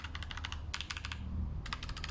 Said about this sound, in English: There's the typing sound